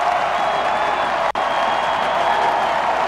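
A packed stadium crowd at a college football playoff game roars steadily, a dense wash of cheering and applause holding loud throughout with one brief dropout in the middle.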